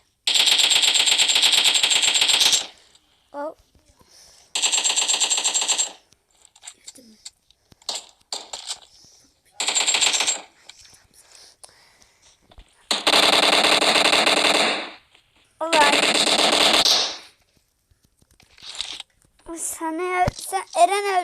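Loud bursts of automatic gunfire from a mobile shooting game, several sustained volleys separated by short pauses and quieter game sounds, with a few single shots near the end.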